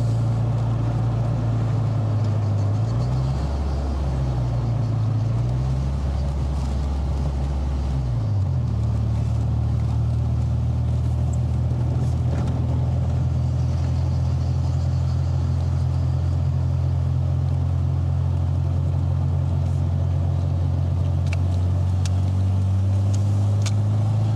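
A Honda Accord engine during ECU tuning runs loud and close, with a few quick rises and falls in revs early on before settling into a steady, higher hum.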